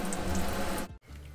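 Water from a truck camper's shower running after the shut-off valve is reopened, a steady close splashing flow that cuts out abruptly near the end and then resumes more softly.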